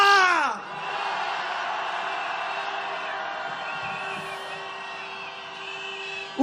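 Candlelight rally crowd gathered in heavy snow roars together in one long, loud sustained shout that holds steady for several seconds after a brief rising yell at the start.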